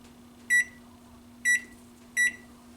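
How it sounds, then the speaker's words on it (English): A kitchen timer beeps three times at even intervals, sharp and close, while banana bread bakes in an oven preheated to 350 degrees, over a low steady hum. "My timer went off."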